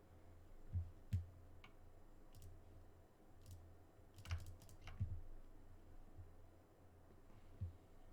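Faint clicks and taps from a computer keyboard while someone types during an online Modern match of Magic: The Gathering with a Grixis Shadow deck, landing as scattered sparse keystrokes over a low steady hum.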